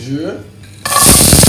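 Okra drops into hot oil in a cooking pot, setting off a sudden loud sizzle that keeps hissing steadily, just after a short spoken word.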